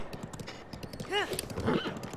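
Horse hooves clip-clop in a steady rhythm while a horse gallops through Hyrule in a Zelda video game, with a brief whinny partway through, all under game music.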